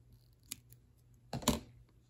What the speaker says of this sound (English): Always slide it close to the end of your thread and trim any excess.